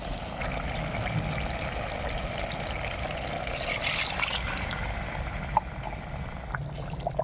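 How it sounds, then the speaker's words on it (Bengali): Hot water poured into chicken curry cooking over a wood-fired stove, a steady splashing pour with bubbling and simmering, a couple of small knocks near the end. "এবার আমি এর মধ্যে দিয়ে দেব অল্প পরিমাণ জল গরম জল"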